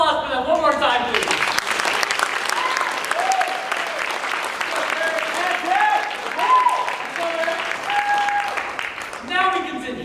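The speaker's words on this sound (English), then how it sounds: "A round of applause for them one more time, please." A large audience claps after cultural dance performances, sustained crowd applause filling the hall with a voice talking over it throughout.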